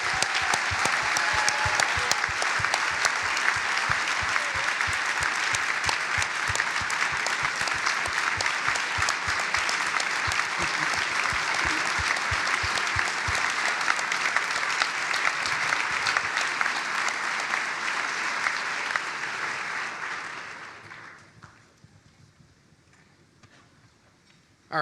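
A large audience at an Economic Club of Chicago event gives sustained, loud applause welcoming former Secretary of State Hillary Clinton, with steady clapping that holds for about twenty seconds before fading out quickly.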